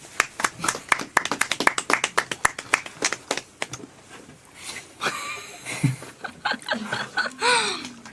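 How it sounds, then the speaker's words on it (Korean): A few people clap in a radio studio, sharp close claps in a quick burst that thins out after about four seconds, followed by chuckling and brief talk. "박수 쳐드려야죠"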